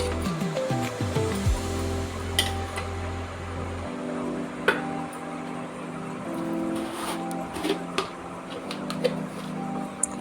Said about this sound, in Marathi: त्याच्यामध्ये आता एक तांब्या पाणी टाकूया.